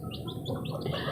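Young chick only a couple of days old chirping up close, a quick run of repeated high peeps over a steady low background rumble.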